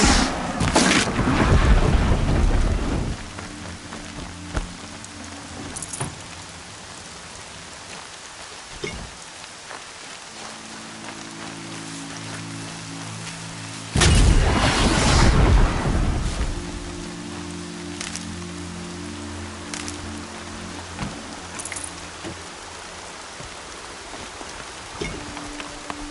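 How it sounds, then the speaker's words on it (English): Steady rain falling in the video game Horizon Zero Dawn, a continuous wash of patter with two louder gusting surges of heavier downpour, layered over low ambient game music. "More rain. My boots will get damp."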